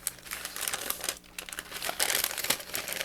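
Soft tissue paper held with washi tape crinkles and rustles continuously as Valentine's happy mail is unwrapped by hand, close and fairly steady throughout with a brief lull in the middle.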